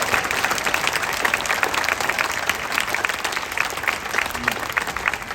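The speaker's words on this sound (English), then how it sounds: "Let's give them another big round of applause." Festival audience gives a big round of applause at an opening ceremony in Charleston, South Carolina: steady, dense clapping from a large crowd that stays loud and even throughout.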